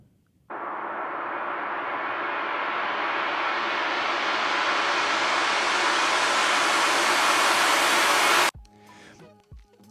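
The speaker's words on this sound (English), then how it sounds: "I then reversed it so that it became a riser instead of a fall" A reversed crash cymbal riser, shaped with EQ and a sweeping filter in Ableton, swells as a wide noisy wash that brightens and grows louder for about eight seconds, then cuts off abruptly into a faint tail.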